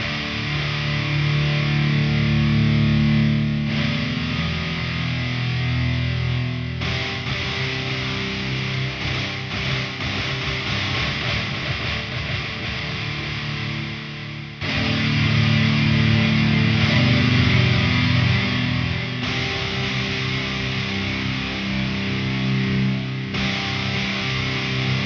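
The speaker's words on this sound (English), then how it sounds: "It's the metal power chords from Cinematic Guitars 2." Distorted metal power chords from the Cinematic Guitars 2 sample library chug loudly in heavy repeated sections, the thick, saturated guitar tone playing alone without any speech.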